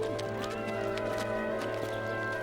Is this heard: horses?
yes